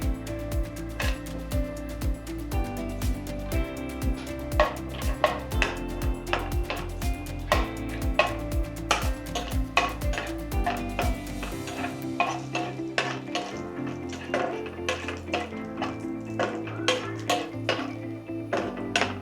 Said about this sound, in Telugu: మనం డ్రై ఫ్రూట్స్ ఫ్రై చేసుకుందాం నెయ్యిలో